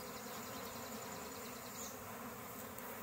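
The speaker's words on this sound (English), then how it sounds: "I got the bee swarm in this hive" A bee swarm buzzes continuously near a hive, producing a dense, steady, faint drone with no voices.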